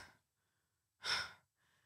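A person sitting on the floor catches their breath after running, letting out one faint, close breath or sigh in near silence with a softer breath trailing after.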